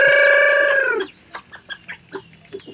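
Chickens cluck in short, spaced bursts right after the ragged tail of a long, loud crow-like call, heard close with no talk over them.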